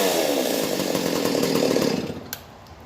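A rebuilt Stihl 025 chainsaw engine runs loud and close, then winds down and sputters toward a stall near the end.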